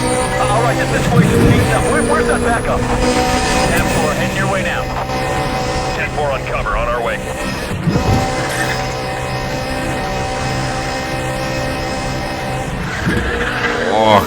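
Race car in Need for Speed: The Run, driven through San Francisco, accelerating hard with a loud continuous engine roar that holds steady throughout, layered under other dense game sounds.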